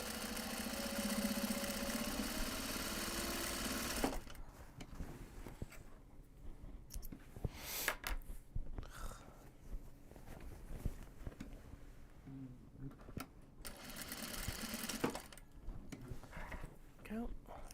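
A sewing machine stitches the interior seam of a large Japanese fabric box bag, whirring steadily for a few seconds. It then runs in short, quiet, intermittent bursts with brief pauses between stitches.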